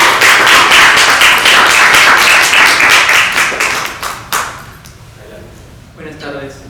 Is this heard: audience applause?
yes